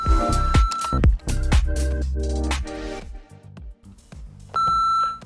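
An answering machine sounds electronic beeps and tones among a jumble of short musical stings and clicks, ending on a sustained steady beep.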